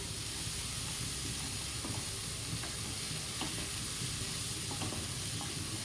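Cauliflower paneer fried rice being stirred in a pan, with a steady sizzling fry and a continuous hiss throughout, broken by occasional scraping clicks of the spoon against the pan; no talking.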